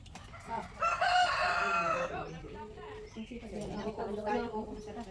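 Chickens cluck and a rooster crows nearby, with people talking over the birds.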